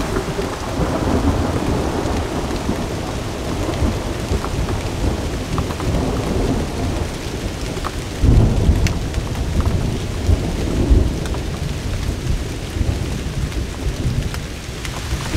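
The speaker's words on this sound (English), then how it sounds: "This rain seems pretty stable" Steady heavy autumn rain pours down at a campsite with deep rumbles of thunder rolling through, including a couple of louder nearby cracks partway through.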